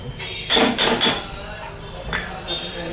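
Ground masala being added to a pan of oil, with a cluster of metallic clinks and clatters from a spoon on the vessel followed by a softer knock, close and fairly loud.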